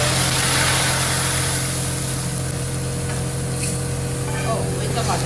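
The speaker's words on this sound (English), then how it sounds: "And now she's emptying out the broth into the oil." Broth pours into hot oil with mutton in a pan, giving a loud, steady hissing sizzle that fades slightly as it settles, close up, with faint talk in the background.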